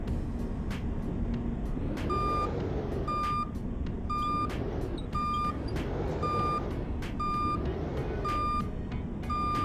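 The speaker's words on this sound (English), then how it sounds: "If the vehicle is in reverse, note the warning alarm sounds." A steady electronic reversing alarm beep from a fire engine in a video game repeats at a regular pace over a constant engine drone, with no talking.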